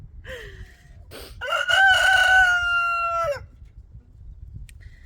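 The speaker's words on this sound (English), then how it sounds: "These chickens, these roosters are extra talkative this morning." Roosters and chickens on a homestead on a cold morning: one rooster gives a long, loud, close crow after some short clucks, with softer calls before and after.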